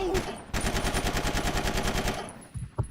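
A rapid, loud burst of automatic weapon fire in Battlefield Vietnam, evenly spaced shots for about two seconds, followed by a couple of scattered thuds.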